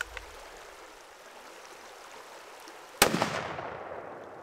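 A single sharp gunshot cracks at a shooting range after several seconds of quiet outdoor background, followed by a fading echo rolling away into the distance.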